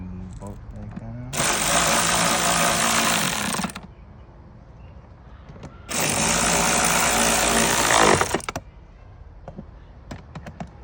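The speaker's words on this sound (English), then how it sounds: "Tighten the bolt back down." Close, loud power tool whine in two bursts of about two seconds each, tightening a bolt on a 2017 Buick Envision with a 2.5L Ecotec AWD engine, with quiet workshop sounds between the bursts.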